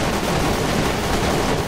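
Machine-cannon fire from a turret in the vehicular combat game Death Skid Marks, a dense, continuous barrage of loud gunfire with no pauses and no voices.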